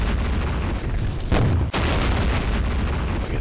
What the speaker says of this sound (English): Gotta love infantry guns.